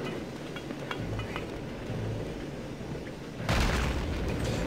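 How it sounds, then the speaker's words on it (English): A grenade goes off in the shooter game Return to Castle Wolfenstein, a sudden loud boom after a few seconds of quieter game ambience, with the blast rumbling on to the end. "Let me test it with a grenade."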